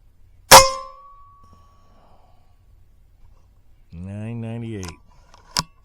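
A single sharp report from an Evanix Rainstorm SL .22 caliber air rifle fired downrange through a chronograph, loud and close with a ringing tail, followed by a brief murmured voice and a second short click.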